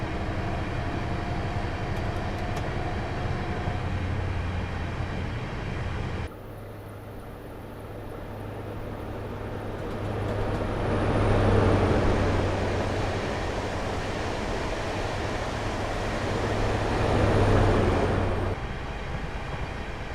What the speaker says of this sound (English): So I am allowing the train to coast along here, but we are still accelerating.